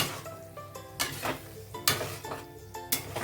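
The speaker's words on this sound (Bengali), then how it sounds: "এটা দেওয়ার পরে একদম হালকা হাতে এভাবে নাড়তে হবে" Paneer and spinach for palak paneer stirred lightly in a pan, giving quiet irregular scrapes and soft clinks of a spoon against the pan with a faint sizzle beneath, no talking.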